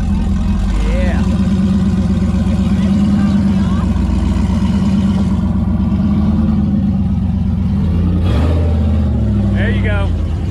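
A Jeep with its muffler missing revs loudly on a trail, a raw, rumbling engine surging and easing close by, while people talk over it.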